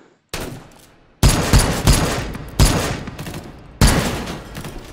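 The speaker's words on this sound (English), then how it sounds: "Oh, we're taking fire." Gunfire in the VR shooting game H3VR, four loud separate blasts spaced about a second apart, each with a sharp crack and a decaying rumble, and no voices.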